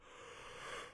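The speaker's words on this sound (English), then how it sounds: "Sorry about the yawn." A single long breathy yawn from a podcast host, a close airy exhale swelling slightly toward the end, no words spoken.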